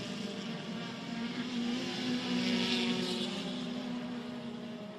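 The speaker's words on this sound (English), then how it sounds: "You hear the tyres scrubbing on the cars as they work hard around the twisty stuff." Touring cars racing at the Hungaroring in the 2014 WTCC, tyres scrubbing through the twisty section amid a continuous wash of engine drone and tyre noise, steady and moderately loud, with no talking.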